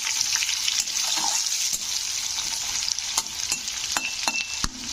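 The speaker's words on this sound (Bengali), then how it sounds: "তো পেঁয়াজটাকে একটু লাল করে ভেজে নিতে হবে।" Onions fry in oil with crushed cardamom, a close, steady sizzle with repeated scraping clicks of a spoon stirring the pan.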